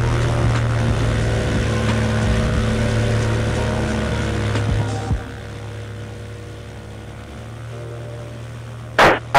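A Viking 130 aircraft engine runs in subzero snowy weather, a steady droning hum with a low throb that continues evenly, then a brief clatter near the end.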